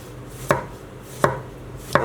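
A sharp kitchen knife slices tomatoes on a chopping board, three crisp cuts landing on the board at an even, unhurried pace, close and clear with no talking.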